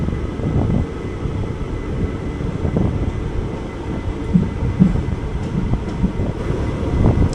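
The 06061 Summer Special Express, a passenger train departing Thiruthuraipoondi junction, rumbles along the rails with a steady heavy roar and faint rhythmic clacks, heard loud and close from on board.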